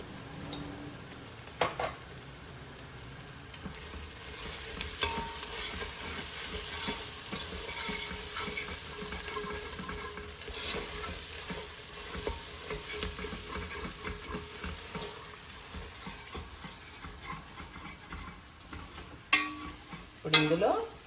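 Rice with turmeric sizzles quietly in a pan for kichidi, with a steady frying hiss and intermittent scraping strokes of stirring, plus a few louder clanks near the end.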